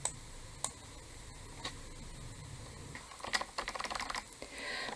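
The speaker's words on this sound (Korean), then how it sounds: "자라라는 이름을 입력해주면 My name is 자라가 출력이 되고" Fingers tapping on a computer keyboard during a coding session, a quiet run of scattered clicks that bunches into a quick burst of keystrokes near the end.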